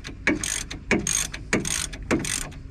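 A ratchet undoes the last bolt of a Ford Fiesta ST 150 brake caliper, close and sharp, with about five rhythmic clicking pulls in quick succession and no talk.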